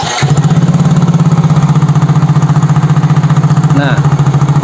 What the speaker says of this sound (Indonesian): Oke, kita nyalakan mesin dulu.